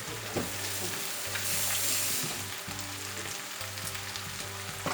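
Ripe bananas sizzle in a hot pan alongside sausage and get stirred, a steady close crackle with occasional scraping strokes and a low humming tone underneath, no voices.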